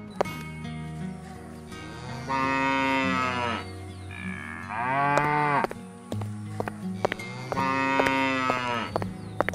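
Several loud, drawn-out cow moos, three long calls spaced a few seconds apart, with quieter lowing and a faint outdoor background between them.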